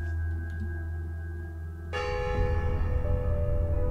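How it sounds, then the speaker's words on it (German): A church bell in the game Wooden Floor 2, rung by pulling a bell rope in a broken-down church, strikes once with a loud clang that rings on over a steady low hum. "Ah, ein Glockenseil."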